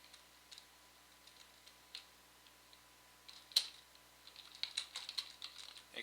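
Sparse clicks of a computer keyboard as a name is typed into a training plan template, irregular single taps that quicken into a denser burst near the end, close and quiet in an otherwise silent room.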